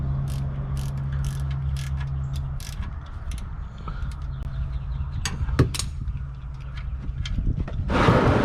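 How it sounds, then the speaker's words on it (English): A 15 mm wrench works the oil drain plug loose on a 2015 Chevy 1500, with quick ratcheting clicks and metallic ticks over a low hum, followed by a louder scrape or rush near the end. "It is a 15 millimeter to get the drain plug off."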